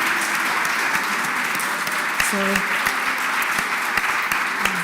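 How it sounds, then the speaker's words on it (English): Applause fills a conference session on Mediterranean and Atlantic ocean health, a sustained, fairly loud patter of many hands clapping, with a brief voice audible partway through. "So I think all the applause goes to her, at least from the Commission side."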